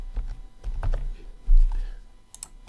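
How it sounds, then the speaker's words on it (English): Typing on a computer keyboard, a few scattered key presses and clicks at close range over a quiet room, with a faint voice in the background. "make sure you press dot, it's next to the question mark on your keyboard"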